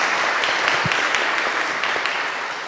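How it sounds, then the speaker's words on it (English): A church congregation at an annual parish meeting applauds outgoing vestry members, steady close clapping from many hands that tapers off slightly near the end. "we're going to give the outgoing vestry members a round of applause"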